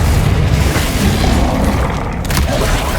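A Bombarda spell explosion in the Hogwarts Legacy video game, heard as a loud, sustained low-end boom that rolls on without a break for about three seconds.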